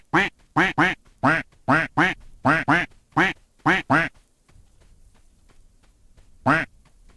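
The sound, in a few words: ducks quacking in the video game Escape From Duckov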